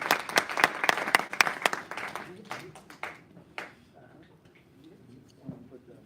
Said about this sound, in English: So please give me a round of applause for Eric